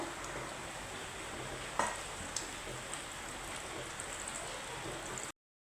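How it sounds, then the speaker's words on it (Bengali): Kachoris frying in hot oil on a low flame, a soft, steady sizzle with a couple of faint clicks before it cuts off abruptly into silence. "এখন আমি দিয়ে দিব এতে একে কচুরিগুলো তো প্রথমে আমি লো ফ্লেমে আমার ভেজে নিতে হবে"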